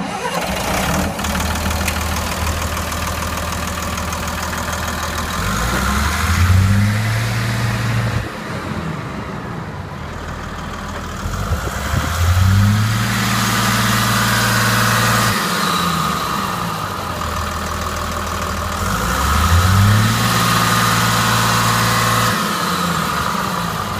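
A Volvo L90E wheel loader's diesel engine cranks and catches several times, each start rising into a rough, knocking idle with a steady low rumble, loud and close with no talking.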